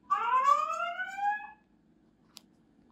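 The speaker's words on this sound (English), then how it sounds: "A siren is the alarm that you can trigger in an emergency" A lightbulb security camera sounds its emergency siren, a loud rising electronic wail lasting about a second and a half, followed by quiet hiss and a faint click.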